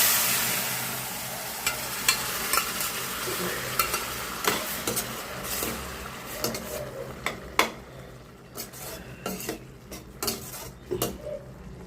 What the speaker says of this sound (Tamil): இப்போ கடுகு வச்சு இப்போ நம்ம பூசணிக்காக போட்டுக்கலாம்